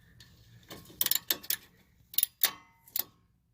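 A ratchet with a pass-through socket works a strut bolt on a 2015-2019 Subaru Outback during end link replacement, giving a handful of crisp, close metallic clicks in short uneven bursts.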